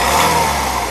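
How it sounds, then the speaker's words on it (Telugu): A Honda Amaze S MT car from 2014/15 runs with its engine held at raised revs after a press of the accelerator: a short, steady, close-up hum with a clear tonal drone throughout. "ఇంజన్ యొక్క నాయిస్ చాలా సైలెంట్గా అయితే ఉందండి"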